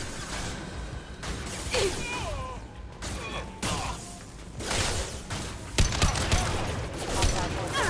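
Rifle fire in the video game Mass Effect 2, a series of sharp gunshot bursts and whooshing impacts, moderately loud, mixed with game effects and voices talking.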